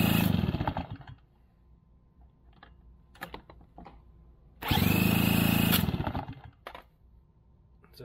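A Shindaiwa EB630 backpack leaf blower with a starting fault gets several recoil pulls: bursts of rough, close engine sputter that die out, separated by quiet stretches with light clicks and handling noises.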